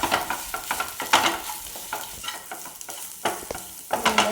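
A chicken filling for stuffed parotta is stirred in a pan, with repeated spatula scrapes and knocks in an irregular rhythm over a soft background sizzle, close up and with no talking.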